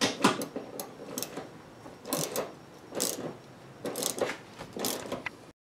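Tightening a seat bolt in a 1963 Chevy C10, a series of close ratcheting clicks in short bursts separated by brief pauses, with no talk.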